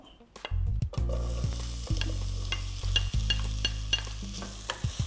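Steady sizzling of onions frying in hot oil in a saucepan, loud and close, with occasional scraping clinks of a utensil stirring the pan.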